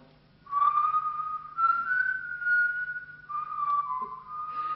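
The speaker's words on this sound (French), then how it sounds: "Tenez, je vais le faire siffler." A person whistles a few sustained notes in a short wavering melody, clear and close in a quiet room.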